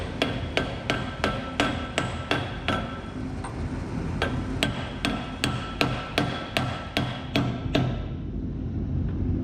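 Steady metal hammer strikes on a socket, roughly twenty sharp blows in an even rhythm, close and loud, seating a seal in a Ford Transit rear brake, then stopping near the end with a quiet pause.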